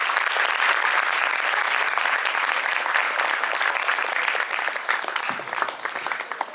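Loud, sustained applause from an audience at a children's poetry gathering, dense clapping that holds steady for several seconds before thinning slightly near the end.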